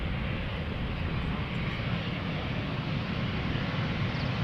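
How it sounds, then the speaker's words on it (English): A KLM Embraer 190 airliner arriving at Schiphol from London City gives off a steady, broad roar of jet engines. The sound stays loud and constant throughout, with no talk. "So this is KLM flight 986. Embraer 190, arriving from London City."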